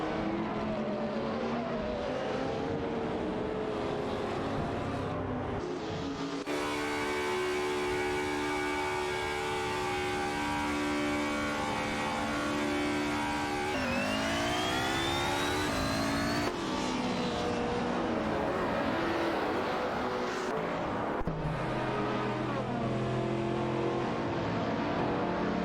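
Race cars roar around a track in a racing video game, with several engines revving and shifting pitch continuously for the whole stretch, loud and close, with gear changes and passing cars sweeping up and down.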